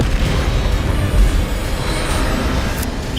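A Bombarda spell explodes during combat in Hogwarts Legacy, a dense continuous rumbling roar of blasts and bursts that stays loud throughout, with a heavier low thump in the middle.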